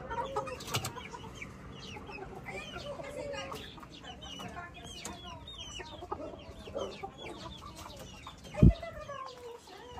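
Chickens cluck repeatedly at moderate distance in an outdoor garden in Baguio, with people talking softly alongside and a sharp thump near the end.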